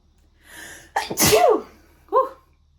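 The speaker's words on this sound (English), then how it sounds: "I'm gonna sneeze." A single loud sneeze with a sharp breathy buildup, followed by a brief sniff or small vocal sound afterward, close and otherwise quiet.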